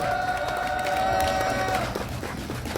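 Crowd at an outdoor Korean protest rally clapping for a singer, dense applause with a lingering tone and murmurs, gradually tapering off toward the end.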